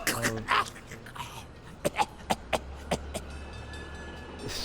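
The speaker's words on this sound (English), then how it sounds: "This motherfucker coughing," A goat character coughing in the video game Blacksad: Under the Skin, a run of short, sharp coughs in quick succession, heard over a low background hum with brief voices at the start.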